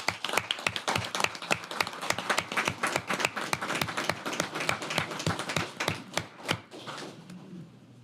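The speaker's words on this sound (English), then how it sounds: "let's give them another round of applause" Applause at a Gallatin city council committee meeting: a room of people clapping steadily and close for several seconds before the clapping thins out and fades.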